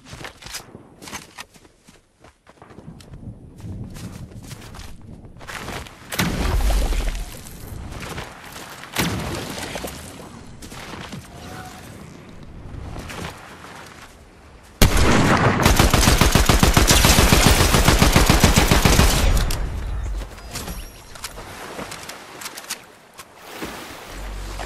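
Assault rifle fire in an online shooter video game, with loud bursts of rapid automatic shots recurring throughout, one long sustained volley near the middle, mixed with footsteps and ambient game noise.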